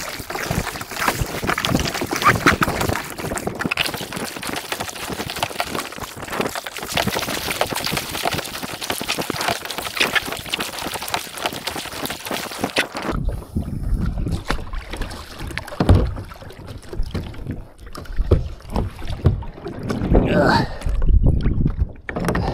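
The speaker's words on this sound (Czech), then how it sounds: "proto jsem na kajaku" Splashing kayak paddle strokes churn the water of Bacalar Lagoon, Mexico, in a steady rhythm, close and loud, with gusty wind buffeting the microphone.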